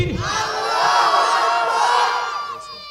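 Large crowd in a tent shouting a takbir chant in unison, answering a preacher's call, loud and close, one sustained roar lasting about two seconds and then fading.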